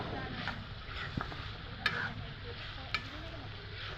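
Meat coated in turmeric sizzles quietly in a pan while being stirred, a soft steady frying hiss broken by a few light clicks of the spoon against the pan, close but low in level.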